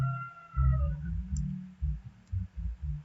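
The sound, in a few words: computer mouse clicking to sign in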